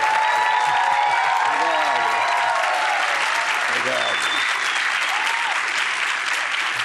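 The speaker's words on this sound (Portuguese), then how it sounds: "Vamos aplaudir Fernando Henrique Cardoso." A studio audience applauds Fernando Henrique Cardoso on a talk show, steady loud clapping from a large crowd that carries on for several seconds, with a voice speaking faintly beneath it.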